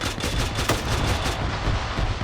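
A 40mm grenade launcher fires in a military video game amid a dense, continuous burst of gunfire, loud and close throughout.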